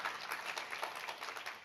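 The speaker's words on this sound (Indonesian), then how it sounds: "Bikin tepuk tangan buat Tuhan." A congregation in a church service claps for God, a continuous wash of hands beating at moderate distance, fairly quiet and even throughout.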